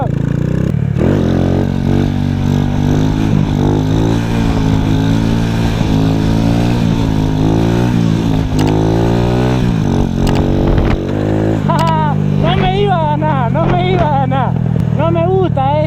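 A 110 cc motorcycle engine revs and holds a steady, buzzing drone, rising and falling in pitch, with people talking over it throughout.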